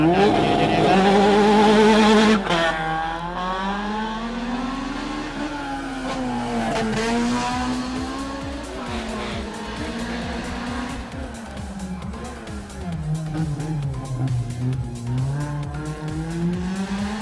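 A Honda Civic race car at a hill climb in Eliyakanda is heard up close and loud. Its engine revs hard through rising gear changes, then pulls away and fades into a distant, wavering drone.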